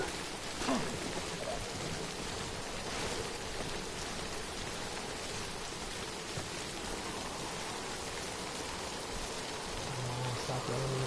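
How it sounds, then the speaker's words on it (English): Rain falls in the video game Death Stranding, a steady wash of downpour with no pauses, heard alone with no talk. "Oh, stop raining on me"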